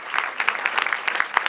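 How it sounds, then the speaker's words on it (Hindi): Energetic clapping from an audience at a preschool event, a brief, loud, crisp burst of many hands. "जोरदार तालियां."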